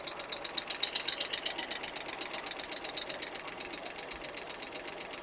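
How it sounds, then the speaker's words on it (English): Rapid, even pulsing of an idling car engine's exhaust, a steady rhythmic putter with a metallic edge, fairly close. "That is definitely more noise out of that exhaust"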